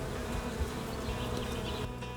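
Honeybees and larger drones buzz steadily inside an open hive during a hive split. A dense, continuous, close hum of many wings holds level the whole time.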